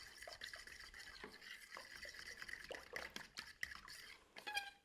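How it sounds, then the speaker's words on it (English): A fork whisking cinnamon into a milk and egg bread pudding mixture in a bowl, quick light tapping and clinking strokes with faint liquid sloshing, close but quiet, no voices. "Again, I'm going to get that whisk in with my fork."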